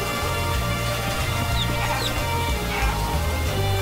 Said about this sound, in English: Angry rooster.